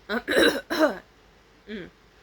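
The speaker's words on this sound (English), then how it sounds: "After a few more coughs." Three rough, throaty coughs in quick succession, then a pause and one more softer cough, close to the listener.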